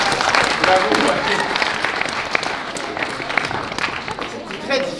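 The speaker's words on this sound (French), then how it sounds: "on l'applaudit, s'il vous plaît" An audience at a family festival in Montreal claps in a lively burst of applause that fades slightly, with a voice speaking over the clapping.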